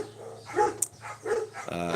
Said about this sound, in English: Pardon the dogs.